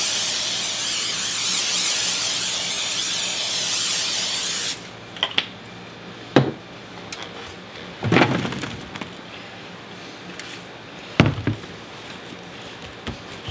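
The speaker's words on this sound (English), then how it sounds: "I'm going to give a little spray just so nothing sticks." A cooking spray can hisses in one steady, close burst for about five seconds while coating a sheet pan, followed by a few sharp clinks and taps of handling.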